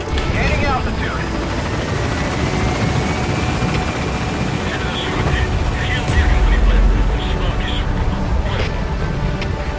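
Helicopter rotor and engine drone in Metal Gear Solid V as the aircraft gains altitude, a continuous loud whir with a heavier low boom swelling partway through, accompanied by game radio chatter and effects.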